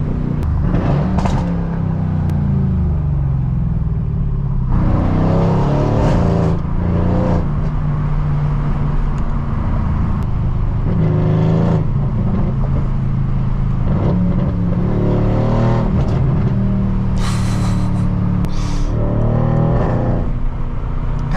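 A deep, throaty 600 hp V8 engine of a rear-wheel-drive Mercedes C63 S AMG revs and accelerates repeatedly at night, its pitch climbing through each gear, loud and close for the whole stretch.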